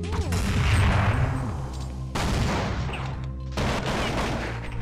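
Rapid gunfire from Counter-Strike 1.6 in a competitive match, with several loud bursts of shots separated by brief pauses, heavy and close with ringing echoes.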